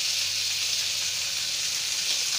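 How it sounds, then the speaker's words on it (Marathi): Chicken pieces roasting in hot oil in a pan for chicken masala, a steady, dense sizzle and crackle that holds evenly loud and close throughout, with no voices. "नंतर हे चिकनचे पीसेस यात सोडून द्यायचे, आपल्याला रोस्ट करून घ्यायचे"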